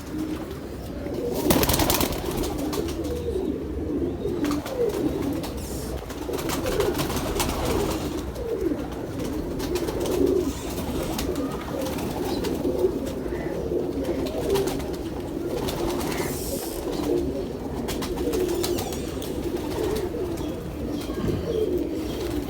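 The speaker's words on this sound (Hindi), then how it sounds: "ये मेरा बड़ा कबूतर है जो 2 साल जेठ उड़ा हुआ है।" Pigeons coo continuously at close range, a dense, low burbling chorus with occasional wing rustles and no speech.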